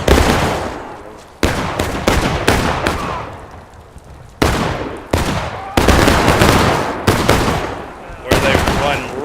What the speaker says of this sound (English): Right into a Continental force, and they're exchanging heated gunfire.